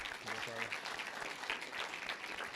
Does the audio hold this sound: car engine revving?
no